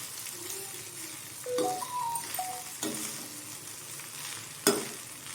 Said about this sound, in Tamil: இப்போது பெப்பர் சேர்த்ததுக்கப்புறம் நல்லா கிண்டி விடலாம் ரைஸு